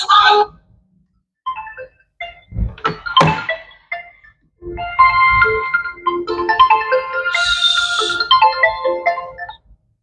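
A phone rings with an incoming call, its melodic electronic ringtone chiming in bursts with short gaps, loud and close with no talk over it.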